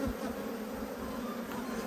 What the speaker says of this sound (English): So many bees